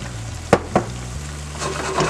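White wine bubbles and hisses softly in a hot pan with lemon garlic chicken juices, broken by two quick knocks of a utensil against the pan.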